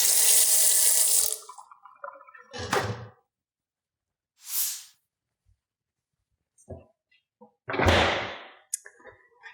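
Water runs from a tap over an oiled bread-dough bowl being rinsed, a loud gush at the start, then two more bursts of splashing with knocks and clatter between quiet gaps.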